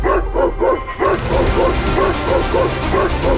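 An army K9 unit dog barks in a quick, rhythmic series of about eight loud, close barks with yippy edges, over faint background noise.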